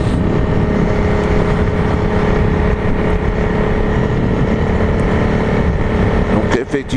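A Honda CRF 300L motorcycle on road tyres, ridden on a road, its engine droning loud and steady with wind noise throughout, ending in a few brief knocks.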